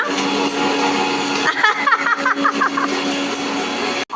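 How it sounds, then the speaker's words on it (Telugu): A mixer grinder whirs steadily and loudly at home, with a brief rattling, pulsing stretch partway through before the motor cuts off at the end. "ఇద్దరు కలిసి మిక్సీ వేస్తున్నారు"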